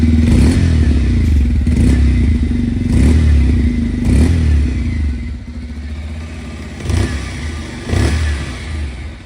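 A Honda SP 125 commuter motorcycle's 125cc single-cylinder engine runs close by with a low, heavy thumping idle and a few revs, steady and without talk.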